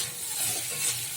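Bottle gourd peel with onion, salt and turmeric frying in a pan, a steady close sizzle with soft stirring scrapes running evenly throughout, no talk.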